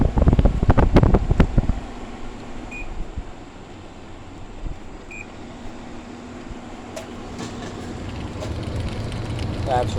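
A 620-watt made-in-China air conditioner starting up and running, a steady mechanical hum and airy whir after a loud burst of handling noise at the start, with faint beeps and a voice nearby.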